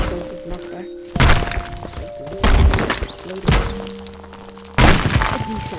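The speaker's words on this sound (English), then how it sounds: "This is volatile explode. It does a decent chunk of knockback." Volatile explode ability in the video game Rumble, heard as three or four heavy thumping bursts with crackling debris, each a sudden loud impact fading over about a second, spaced irregularly amid game hum.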